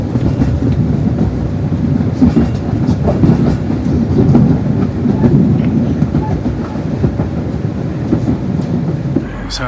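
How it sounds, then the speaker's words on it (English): A train rumbles and clatters steadily at a station platform nearby, its low mechanical roar filling the space with occasional squeaks and knocks, no clear talk. "At least there's a train on the platform."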